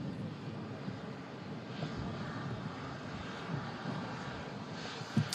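An Atlas Air Boeing 747 taxis in at an airport, a faint, distant steady jet engine rumble with a light hum and occasional small nearby knocks.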